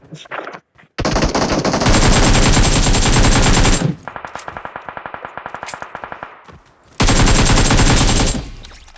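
Kar98 rifle gunfire in a video game, heard as loud, dense blasts that run for several seconds, then a quicker stretch of rhythmic sharp shots, then another loud burst near the end.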